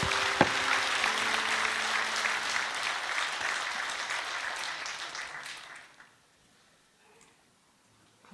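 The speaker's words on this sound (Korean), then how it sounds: "하나님께 영광의 박수" A church congregation claps during an early-morning new-month prayer service, a loud, dense burst of applause that holds for about six seconds and then stops abruptly, leaving near silence.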